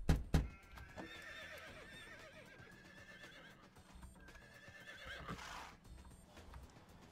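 Horses neighing in the video game Emergency 4, a loud whinny followed by hoof clip-clop and further quieter whinnies, set against a steady game background with no talking.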